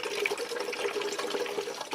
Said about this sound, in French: 200 g d'eau, 200 ml, que l'on verse dans l'éprouvette